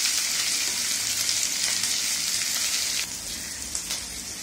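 Capsicum and onion frying together in a pan over a medium gas flame, giving a steady, close, even sizzle that carries on throughout with only slight dips in intensity and no talking.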